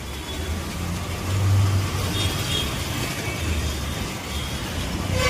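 Road traffic passing near a national park gate under construction: a steady, loud broadband rumble of car and engine noise with a brief swell of a heavier vehicle accelerating nearby, no voices.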